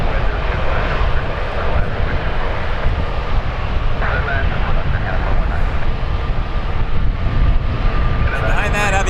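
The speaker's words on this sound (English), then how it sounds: "WestJet 1172 passing by to Fort Myers with the old swoop livery," A WestJet Boeing 737 passes near an airport runway with a steady, loud jet engine roar that lasts throughout, while a person talks over it.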